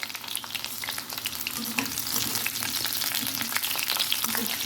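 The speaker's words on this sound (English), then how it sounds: "at first we'll fry the parwal or pointed gourd" Pointed gourd (parwal) pieces frying in mustard oil in a pan, a dense, loud, continuous crackling sizzle held close for the whole stretch, with no talking over it.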